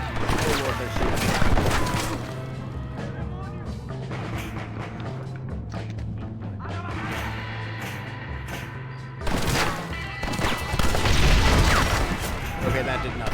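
Gunfire in the video game Red Dead Redemption, a chaotic stretch of shots and crashes over a steady low game-music drone, with a louder burst of blasts near the end.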